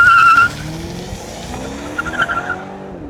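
Tuned BMW 7 Series G12 with about 600 pound-feet of torque through rear-wheel drive accelerating hard on a road, tires squealing sharply at first, then a rising engine note with a brief second burst of tire noise.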